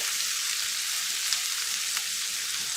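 Butter sizzles steadily in a hot frying pan as it is pushed around before venison steaks go in, a loud continuous crackle with a couple of sharper pops and no talking.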